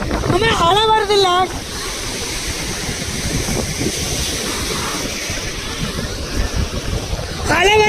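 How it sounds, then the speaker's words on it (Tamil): Sea waves breaking on the beach at Tiruchendur, a continuous washing surf roar with wind noise, as people talk loudly at the start and end. "அலை வருது இல்ல"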